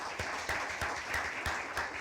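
An audience at a sustainability business forum applauds its contributors, a broad even roll of many hands in a meeting room with rhythmic accents every half second or so, steady and moderately loud with no talking.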